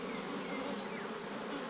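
Honeybees in an open hive that has lost its queen, a dense, even buzzing close by and unbroken throughout, with no voices.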